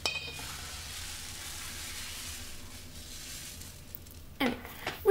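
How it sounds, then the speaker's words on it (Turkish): Crepe batter, two full ladles poured into a heated pan, sizzles in a steady, moderately quiet hiss that fades slightly before a couple of brief clinks near the end. "Gördüğünüz gibi ısınmış tavaya dolu dolu iki kepçe krep hamurundan koyuyorum."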